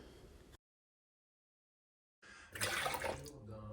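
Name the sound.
pouring lukewarm milk and water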